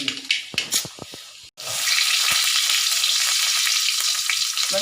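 Mustard seeds hit hot oil, opening with a few sharp pops and crackles before a sudden loud, steady hiss of spluttering oil fills the rest, close and without speech.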